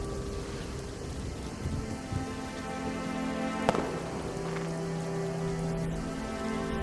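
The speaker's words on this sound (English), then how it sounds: "So let's set the scene. Rain, thunder, running." Steady rain pours over an animated scene while a thunder crack strikes midway, with a low rumble rolling beneath the constant hiss; no voices.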